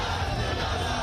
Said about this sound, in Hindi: योगी जी जिंदाबाद, मोदी जी जिंदाबाद के नारे लगाते हुए ये तमाम समर्थक इस वक्त मौजूद हैं